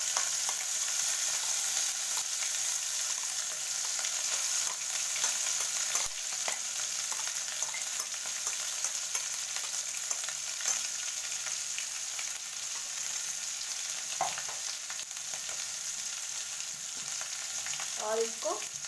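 A paste with asafoetida sizzling in hot oil for a mushroom curry, a constant loud frying hiss throughout with occasional scraping strokes of a stirring spoon, no talking.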